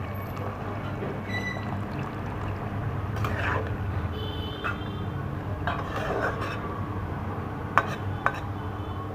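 Tamarind water poured onto boiled sweet pumpkin for a chutney, a steady watery pour running the full length with a few light clinks of utensils near the end.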